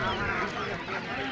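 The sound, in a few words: ducks at a village poultry market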